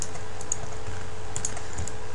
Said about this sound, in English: I'm gonna hit 4 on the keyboard